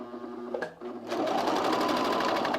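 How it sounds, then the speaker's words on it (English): A sewing machine stitches a men's fleece pullover at an angle, with a short pause and then a fast, rhythmic run of needle strokes, close and steady. "Sew at an angle here."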